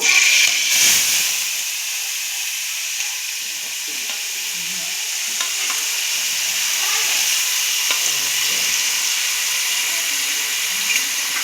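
Onion, green chili and tomato fry in hot oil for a chicken curry, giving a steady, loud, close hiss of sizzling that carries on throughout, with faint stirring scrapes and no talking.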